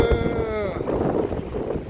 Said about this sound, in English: pretty windy today man